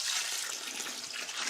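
Water pours steadily onto strained used kitty litter, a brief close hissing splash with no talk.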